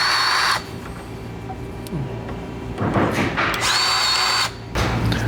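A Milwaukee cordless grease gun works on truck lift kit parts during a GM 2500 lift install, its motor whirring loudly in bursts separated by short pauses, with a few clunks and thuds from the work.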